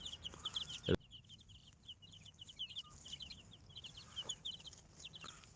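Chicks making soft, rapid clucks and peeps, fairly faint and continuous, with one sharp knock near the start.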